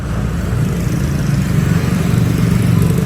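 A Grab scooter pulls up on a street in Saigon, Vietnam. Its small engine gives a steady, close, low rumble that builds slightly over a few seconds.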